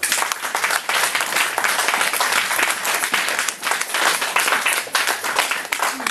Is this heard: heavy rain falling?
no